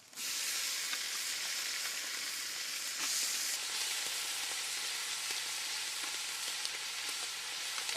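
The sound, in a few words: meat frying in pan for mutton curry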